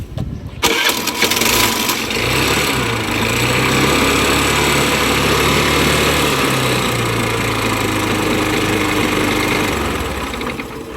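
Old Honda Activa scooter engine started after a repair, a sharp crank at the outset followed by a steady, close, buzzing idle that holds evenly throughout.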